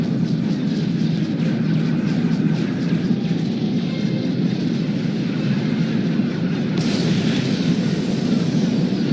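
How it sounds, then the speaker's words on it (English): Artillery bombardment rumbles through a Star Wars space battle over Corellia, a dense, steady low roar of distant booms blended with engine drone, growing brighter and harsher near the end. "Proceeding with bombardment, targeting infrastructure and industrial objectives only"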